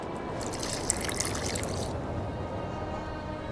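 Water trickles into a glass flask while mixing a dye with burnt lime in The Witcher 2, a soft, close pour for about two seconds before fading to a quiet hiss.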